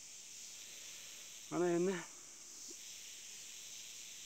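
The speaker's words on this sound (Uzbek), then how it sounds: "shuni chirqillagan ovozi eshitib quloqni teshyapti" A dense swarm of butterfly-like insects in the mountains near Sukorota peak keeps up a continuous high, shrill chirring drone, while someone speaks briefly once over it.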